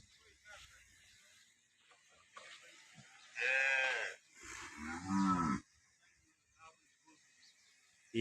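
Cows in a herd of about fifteen in a village in Tharad, Banaskantha, Gujarat, moo twice, long, deep, drawn-out calls a few seconds apart, fairly close, over a quiet background with faint rustling.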